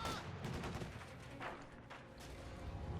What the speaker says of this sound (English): we got people being caught by a lot of G43s there, quickly being shot down